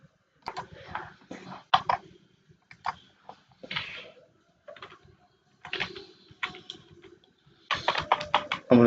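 Irregular bursts of keystrokes on a computer keyboard while entering text into a PowerPoint presentation, clattering in short clusters with pauses between them, close and clear with no talking.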